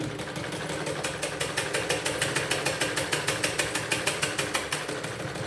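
A sewing machine stitches a blouse dart, starting with a light back stitch, running in a steady rapid rhythmic chatter throughout at close range with no talking.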